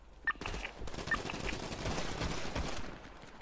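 Gunfire in GTA V NoPixel roleplay during a street gang war, a burst of rapid automatic shots rattling continuously at mid distance after a brief quiet start.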